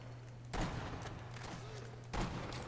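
Two sharp, booming sniper rifle gunshots from the video game Sniper Elite V2 ring out about a second and a half apart, each followed by a short decaying tail over a low steady hum.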